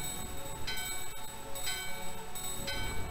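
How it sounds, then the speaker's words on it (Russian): A small bell is rung in the video game Final Fantasy IX, giving a few bright, quick metallic strikes spaced about a second apart over a soft game background. "Позвонить в колокольчик."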